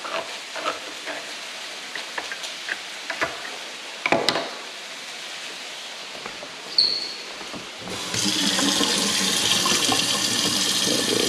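Liquid from a can of beans poured through a strainer: scattered clinks and taps of handling, then a steady rushing, spattering drain that starts abruptly near the end and continues loudly.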